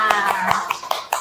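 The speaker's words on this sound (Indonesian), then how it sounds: "tepuk tangan buat semuanya" A class of nursing-assistant students claps in an even rhythm, with about six crisp, evenly spaced claps in quick succession, close and fairly loud, inside a classroom.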